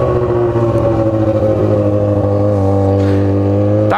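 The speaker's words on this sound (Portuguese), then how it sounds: "A motoca tá berrando, parceiro. O escapamento tá arrumadinho." A motorcycle with a newly repaired exhaust holds a loud, close, steady high-revving roar. Its pitch sags slightly midway and then climbs again just before the end.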